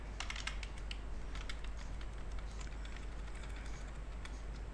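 Fingers type HTML code on a computer keyboard in quick, uneven bursts of soft clicks and taps over a low background hum, with no talking.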